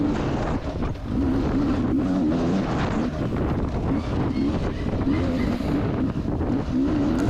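A 2020 Beta 300RR two-stroke enduro motorcycle runs at a sprint enduro race, its engine note rising and falling as it is ridden, heavily buffeted by wind noise against the microphone.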